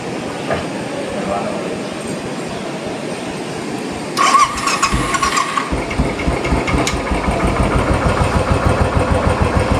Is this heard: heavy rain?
no